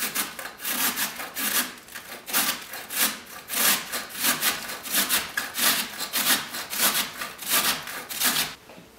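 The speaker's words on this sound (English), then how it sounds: "Cut the cabbage into a wedge and then just grate." A cabbage wedge scraped across the large holes of a box grater in a kitchen, giving steady, rhythmic rasping strokes, roughly two per second, close and fairly loud with no talking.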